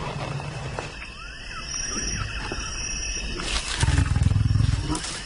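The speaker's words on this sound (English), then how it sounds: "those growls and roars just rattle through your body" Wild lion delivering deep rumbling growls that build into a louder roar near the end, close and powerful, with insects faintly chirping in the night background.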